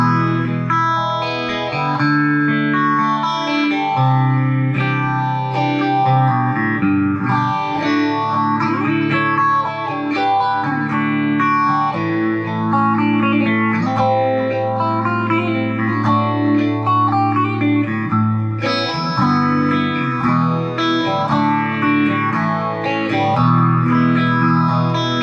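Electric guitar through a Boss Katana Artist MkII head and Waza cabinet with phaser and a touch of digital delay, a continuous loud melodic line with swirling, echoing sustained notes and no talking.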